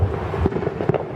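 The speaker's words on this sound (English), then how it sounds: "I've never heard fireworks like this ever before." Neighbor's fireworks going off nearby, two muffled booming bursts over a steady rumbling background with no talking.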